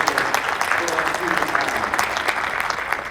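A brief, steady round of applause rises from attendees at a school board of education meeting, many hands clapping together at moderate volume.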